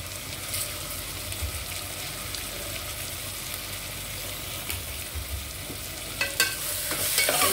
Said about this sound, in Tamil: தக்காளி நல்லா மசிகிற அளவுக்கு வதங்கலாம்